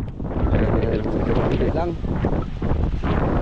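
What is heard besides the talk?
strong wind during a typhoon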